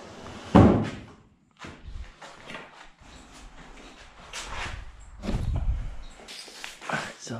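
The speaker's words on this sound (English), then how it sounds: "So now I want to put the door on the floor." A wooden door is laid down on the floor, first with a loud, deep thud, then shuffling, knocking and scraping as it settles, ending in a second heavier bump.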